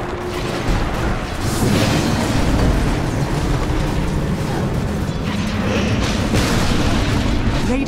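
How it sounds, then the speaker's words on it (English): Dota 2 match audio as the Radiant middle tower is destroyed: a dense, sustained rumble of booming, crumbling impacts with a swell of blasts around the two-second mark, continuous battle noise throughout and no talk. "Radiant's middle tower has fallen."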